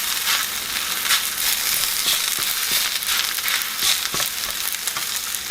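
Greens wilting down in a frying pan for a squirrel-and-gravy dinner give off a steady, close sizzle and frying crackle, with faint stirring scrapes throughout and no talking.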